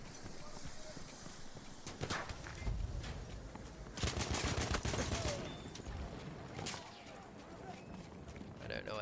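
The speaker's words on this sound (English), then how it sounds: "I'm being shot at" Gunfire in the World War I shooter Battlefield 1 comes in several loud bursts of rapid shots at irregular intervals, with clattering, jumbled battle noise between the volleys.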